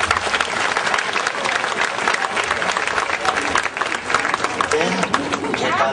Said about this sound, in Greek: Καλώς χειροκροτείτε